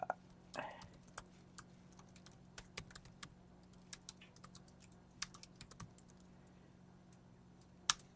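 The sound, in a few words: typing on a computer keyboard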